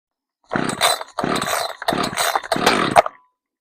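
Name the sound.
Echo CS-590 chainsaw being pull-started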